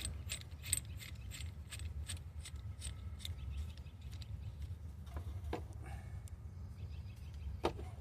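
Parts on a Mustang's rear brake caliper are tightened, making faint, quiet ratcheting clicks in short bursts over a low background hum.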